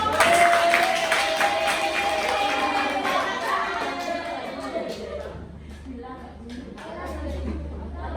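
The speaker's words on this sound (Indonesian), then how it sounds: "beri tepuk tangan untuk" A classroom audience in Indonesia claps and cheers for a student group coming forward to present, a loose crowd applause under an adult voice that gradually thins into murmuring.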